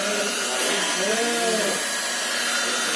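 A Piranha hot air gun, a budget heat gun, blows a continuous, even rush of hot air close by, while someone speaks over the steady whoosh.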